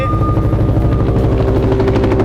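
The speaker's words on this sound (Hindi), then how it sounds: "वॉर जोन में रूसी हेलीकॉप्टर Mi-35 का एक्शन देखने को मिला है।" Russian Mi-35 multirole attack helicopter flying low near trees on a war-zone frontline, its loud, steady rotor thump and turbine whine continuous and close throughout, with no voices.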